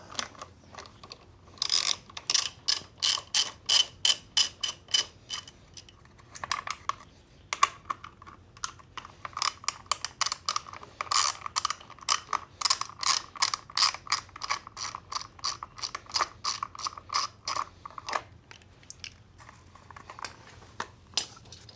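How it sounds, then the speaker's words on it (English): A ratchet fitted with a 10 mm socket clicks rapidly while loosening bolts on a 2025 Yamaha MT-07 motorcycle during an intake install, with close, crisp bursts of ratcheting separated by brief pauses. "10 mil socket. Take these bolts off."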